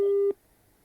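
A phone line gives a single steady busy tone after a dropped call, loud and clear for a moment before cutting off abruptly into near silence.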